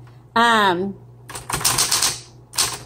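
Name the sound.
typing on 1960s Smith Corona Coronet Electric 12 typewriter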